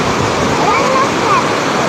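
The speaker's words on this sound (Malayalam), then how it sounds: "ആ ശബ്ദത്തിലൂടെ തന്നെ വെള്ളത്തിന്റെ ഫോഴ്സ് എന്തുമാത്രമുണ്ടെന്ന് നിങ്ങൾക്ക് മനസ്സിലായി കാണുമല്ലോ" A forceful waterfall at a hidden spot, with a family living on its bank, roars as a steady, close, dense wash of rushing water for the whole stretch.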